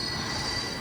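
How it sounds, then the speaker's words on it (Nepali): Metro train at a station at night, its wheels squealing loudly and steadily against the rails as it arrives, with no talk over the sound. "फाइनली हाम्रो मेट्रो पनि आइपुग्यो। यही मेट्रोमा जाने हो हामीहरू।"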